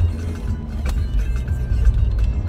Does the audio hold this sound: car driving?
yes